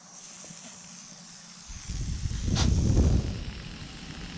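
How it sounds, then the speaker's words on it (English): Compressed air regulated to about 30 psi hisses into the power steering system of a 3000GT VR4, a soft hiss that swells into a louder, rushing blast midway before easing slightly. "I'm going to apply some compressed air, gauge it down to about 30 psi."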